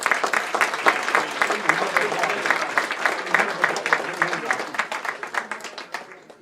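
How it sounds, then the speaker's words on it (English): Guests at an annual president's gala and chef of the year dinner give a round of applause, close and fairly loud clapping with distinct individual claps that thins out and fades toward the end. "let's give him a hand of applause"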